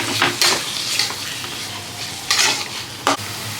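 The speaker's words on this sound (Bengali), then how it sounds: "ক্যাপসিকাম দেওয়া হচ্ছে কুচো কুচো করে, এই যে। আবার ভালো করে কষা হবে।" Chopped capsicum sautéing in a pan for a paneer capsicum masala, a close, steady sizzle broken by several sharp stirring scrapes and clinks of a utensil against the pan.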